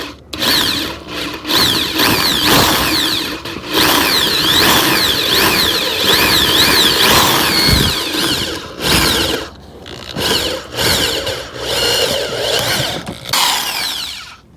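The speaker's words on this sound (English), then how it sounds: "I'm just gonna drill that out to size." A power drill whines loudly and close up as it widens a soldering-iron hole to size during a Honda Element rear hatch release modification. Long sustained runs of drilling alternate with brief pauses and restarts.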